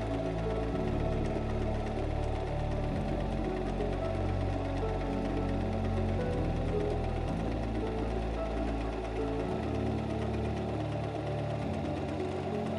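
A SINGER M3330 sewing machine stitches a slant overedge seam, its motor humming steadily and loudly with a rapid needle chatter that shifts speed in short runs, alone with no voices.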